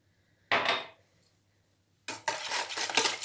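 A dough mixture with added oil is stirred in a bowl by hand, giving two bursts of close, wet scraping and sloshing separated by a short quiet pause.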